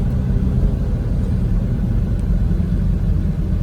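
A 2002 Ford 7.3 diesel pickup with a KC300x stage 2 turbo, tuner and S&B intake pulls at three-quarter throttle, a loud, heavy, continuous low rumble and drone heard from inside without pauses or speech.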